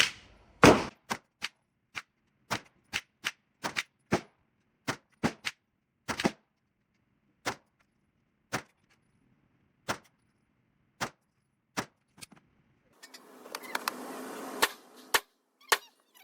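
9mm pistol fired at a target outdoors, about twenty sharp, loud single shots spaced irregularly with brief pauses, followed near the end by a burst of broadband rustling or wind noise.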